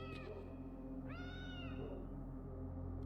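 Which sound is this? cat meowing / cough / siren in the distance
cat meowing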